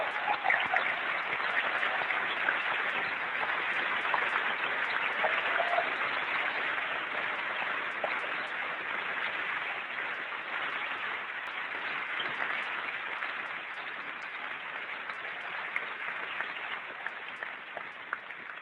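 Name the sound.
audience applause for Apple employees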